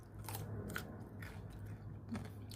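Crunchy bites into a pickled cucumber, several moist, crisp crunches close to the mic, followed by quiet chewing, with no talking.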